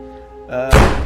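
A door slams shut with a single loud, close thunk after a brief low creak, standing alone without speech.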